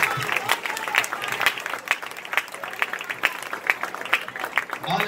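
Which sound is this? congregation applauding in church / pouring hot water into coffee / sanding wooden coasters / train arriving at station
congregation applauding in church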